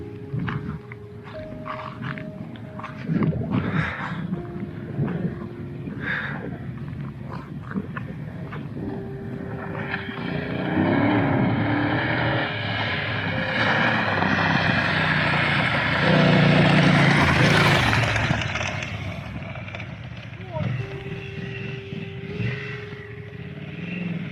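A BMW motorcycle engine runs in a cold mountain setting, idling and revving with a rising roar in the middle before settling back, close and fairly loud over faint background noise.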